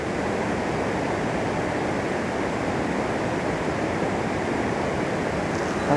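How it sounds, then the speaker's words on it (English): Steady broadband rush of running water at the Reekie Linn waterfalls, a continuous, even roar close by with no other sounds over it. "So I've got the small kind of running water in front of me"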